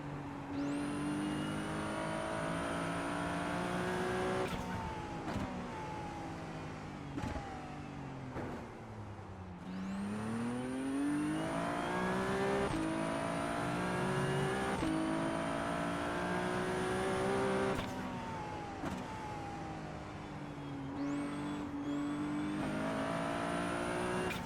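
Ferrari 296 Challenge race car in iRacing on the Nordschleife, its engine screaming loud and close through a steady run of high revs, with repeated gear shifts, brief lifts and fresh climbs in pitch.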